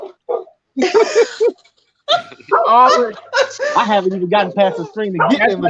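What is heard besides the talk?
dogs barking at someone coming through the door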